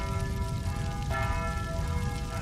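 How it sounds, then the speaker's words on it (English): Church bells ringing across London on the morning of the Great Fire, a steady sustained peal of overlapping tones with a low rumbling background, continuous throughout. "Bells are ringing from every church in the city."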